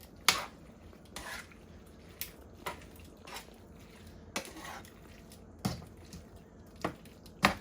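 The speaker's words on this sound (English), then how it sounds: "I'm going to sprinkle in that Parmesan. And that makes it even more creamy. And you add as much Parmesan as you like. And you mix it all together" A spoon mixes grated Parmesan into creamy shrimp Alfredo pasta in a pan, making a series of soft, wet clinks and scrapes at irregular intervals about a second apart, close and fairly quiet.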